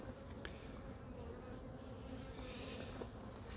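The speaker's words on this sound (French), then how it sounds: "ruche à visiter sur ce rucher là" Honeybees buzz steadily around an open beehive during an apiary inspection, a dense continuous drone close by with a few louder individual passes and no talking.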